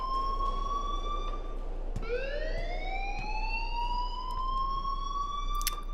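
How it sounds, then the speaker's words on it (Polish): Alarm sounding in the video game Life is Strange, a loud, continuous electronic siren-like tone that dips and then rises again, heard alone. "please turn off that alarm since that's your job"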